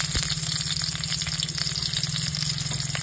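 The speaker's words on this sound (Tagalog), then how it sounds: "magluto tayo ng ginisang tinangkon" Bean sprouts sauté in a hot pan with a steady, close sizzle and light crackle, faint stirring scrapes and clicks scattered through, no voices.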